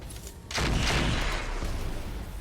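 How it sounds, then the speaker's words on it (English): A PPC and autocannons fire at a Prowler in the RogueTech mech game. A loud, sudden burst of weapon fire rolls into a sustained roaring blast, with a second thump shortly after. "Missed with the PPC, but both autocannons hit."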